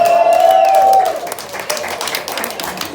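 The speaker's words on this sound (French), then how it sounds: "je vous donne un triomphe d'applaudissements pour Samir" Applause from an audience at a chili-pepper eating contest in a brewery, a brief burst of clapping with a sustained tone at first, then thinning out over a few seconds.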